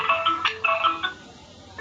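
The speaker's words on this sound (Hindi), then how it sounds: "फोन बज रहा है" A phone rings during an online vectors lesson, a short melodic ringtone of bright repeated tones heard clearly for about a second before stopping.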